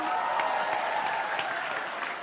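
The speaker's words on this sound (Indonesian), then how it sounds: "bisa kali kasih tepuk tangan" Audience applause fills the room at a live talk-show event, a dense, steady clapping from a sizeable crowd that holds at an even level throughout with no voices over it.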